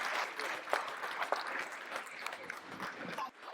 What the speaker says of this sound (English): So let's applaud the young people who are leading this.